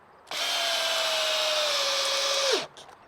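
A Ridgid brushed X4 drill driver on a 2 amp hour battery drives a screw in one loud, steady whine of about two seconds that winds down as the screw seats, with no talking.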